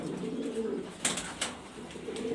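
A grizzle racer pigeon at a loft in Mirpur, Dhaka, gives low, soft cooing murmurs, faint and close, alongside a couple of short sharp clicks.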